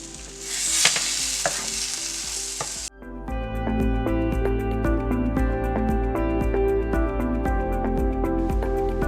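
Taco pizza fries in a pan on a low flame, beginning with a loud broad sizzle that cuts off abruptly, then continuing as a steady sizzling hiss under upbeat background music.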